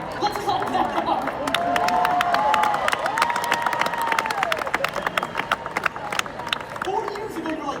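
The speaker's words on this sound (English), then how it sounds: "Let's clap that up." A large crowd of around ten thousand realtors at a live seminar breaks into sustained applause and cheering, dense rapid clapping with shouts and whoops swelling and holding throughout, close and loud.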